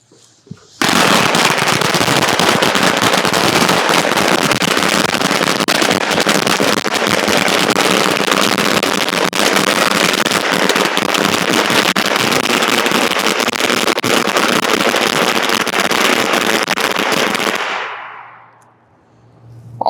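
A long, dense string of 1,000 firecrackers crackles and pops nonstop at close range for nearly twenty seconds, then cuts off abruptly.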